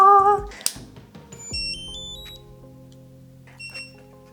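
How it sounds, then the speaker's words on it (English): Two short, high electronic beeps from a heated hair styling tool sound close by, signaling it is ready, followed by a quieter chirp, against an otherwise quiet room. "they double beeped, it's ready."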